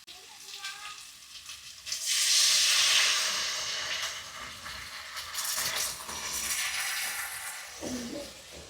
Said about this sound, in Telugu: కారం కొంచెం నూనెలో ఉడికింది. ఇప్పుడు తగిన నీళ్ళు పోస్తున్నా.